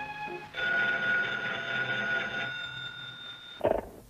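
In a Felix the Cat cartoon, a telephone bell rings in one sustained, shrill burst lasting about three seconds, then cuts off as the receiver is picked up with a brief clatter.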